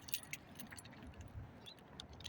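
Car keys jangle and clink together in a hand, a series of close metallic rattles over a low background rumble.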